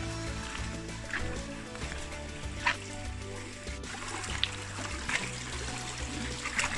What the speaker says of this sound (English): That's where the water comes out from underneath the ground.